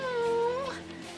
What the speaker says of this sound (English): Excuse me, is that your cat?